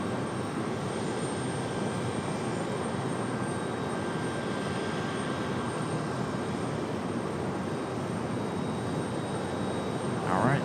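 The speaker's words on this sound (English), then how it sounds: "Lufthansa already cleared for departure. Should be a turn and burn here for them" A Lufthansa airliner taking off at Raleigh-Durham airport, a steady broad jet roar held at a distance throughout, with faint talk in the background.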